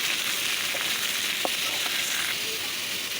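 Ash gourd pieces added to hot oil after frying fish, a dense even sizzle with a few small pops and stirring clicks, close and constant without speech.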